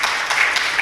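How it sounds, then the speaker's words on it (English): Brief burst of audience applause at a ReactNext 22 web development conference talk, a short continuous patter of many hands clapping at steady moderate loudness throughout. "Yay, applause."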